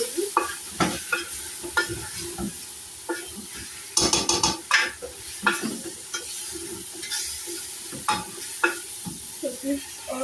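Onion and chicken mixture being stirred in a frying pot, a spoon scraping and knocking against the metal in irregular strokes over a steady sizzle, close and fairly loud.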